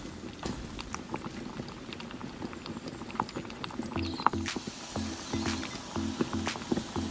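A cheddar cheese sauce made with whole milk and black pepper simmers in a pan, giving a steady low bubbling and popping close by, with scattered sharper blips of a utensil and no talk.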